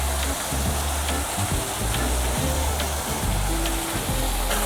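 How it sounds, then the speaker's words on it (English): A river waterfall at a mini golf course flows in a loud, steady rush of water, close and continuous throughout. "Boy, it is flowing. There's a beautiful waterfall there."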